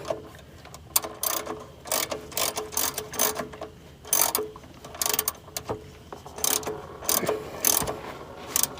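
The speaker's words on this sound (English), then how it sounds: "This is a 16mm socket, so I'm just going to break it loose." Ratchet with a 16mm socket breaking loose an oil drain bolt during an Amsoil 5w-20 oil change, giving bursts of sharp, close clicking strokes in an irregular rhythm across the whole stretch, with no talk.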